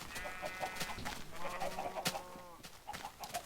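Minecraft chickens cluck in a game barn, with several short, bright calls overlapping in an irregular run across the clip, fairly close and moderately loud, with no talking.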